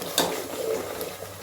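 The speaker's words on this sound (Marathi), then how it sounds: "मसाले चांगलं तेल सुटेपर्यंत चांगले परतून घ्यायचे." Spices frying and being stirred in oil in a pot for mutton paya soup, a steady close sizzle with scraping stir strokes and a sharp utensil knock at the end, no talk.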